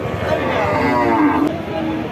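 A cow moos in one long, loud, drawn-out low call that fills the moment, close by, at a cattle market in Jessore.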